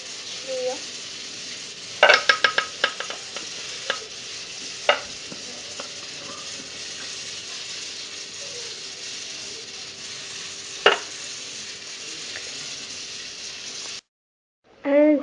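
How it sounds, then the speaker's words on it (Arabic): Tomato peels with salt cooking in a pot on the stove, a faint continuous sizzle with a steady hum, broken by a few clinks of utensils against the pot early on and once later, then sudden quiet. "انا درتها فوق البوطه، غنخليها حتى تهرى ليا وتطلق مازال الماء تاعها"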